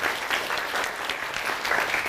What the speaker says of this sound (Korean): 임병혁 대표님께 박수 한번 크게 한번 보내주시죠